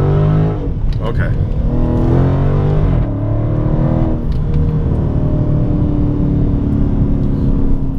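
A 485hp car on 245 all-season tires pulls away on light throttle in second gear, its engine a loud steady drone with pitch rising in the first seconds and then holding, close to the cabin.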